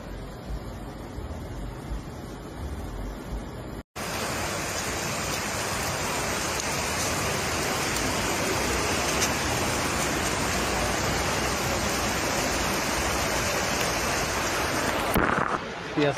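Floodwater rushing through the streets of Rome during a sudden storm, a loud continuous torrent roar, preceded by a few seconds of quieter outdoor sound and ending with a brief disturbance.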